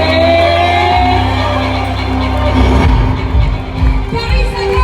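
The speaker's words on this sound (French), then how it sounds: "Applaudissements pour lui, s'il vous plaît." A crowd at a homecoming event for a Paralympic delegation in Paris shouts and cheers loudly, with whoops and a swelling roar of voices over a low hum.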